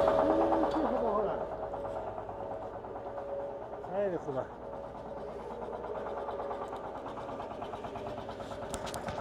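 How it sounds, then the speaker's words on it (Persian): A car engine idles with a steady low exhaust rumble and a constant hum, while people talk over it close by. "این الان صدای اگزوزشه."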